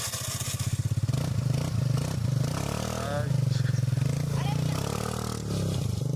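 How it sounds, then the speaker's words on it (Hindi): Suzuki Access 125 scooter fitted with an Akrapovic exhaust, revving in repeated bursts close by, with a steady engine drone and clatter throughout. "एग्जॉस्ट सुनाते हैं अभी। सुना एग्जॉस्ट सुना।"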